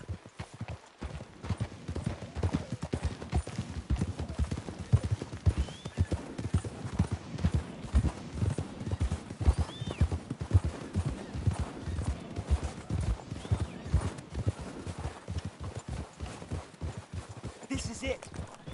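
Horses' hooves clip-clop in a steady trotting rhythm throughout in Red Dead Redemption 2, close and continuous, with a faint whinny and muffled voices underneath.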